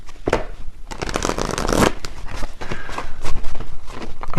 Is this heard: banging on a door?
no